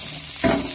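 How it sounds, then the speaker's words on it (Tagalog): Garlic, onion and ginger sizzle in a hot pan with a constant bright hiss, and a scrape of stirring swells the sound partway through. "gisa na po tayo. Sabay-sabay na po natin yan. Bawang sibuyas, luya."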